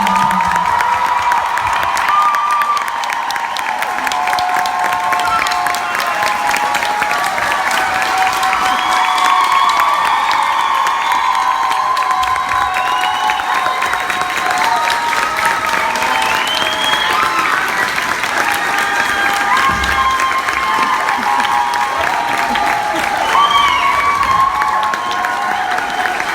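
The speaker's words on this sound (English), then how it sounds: "round of applause" A convention panel audience at Dragon Con erupts in sustained applause, with cheers, whoops and scattered shouting voices layered over steady clapping that holds loud and dense throughout.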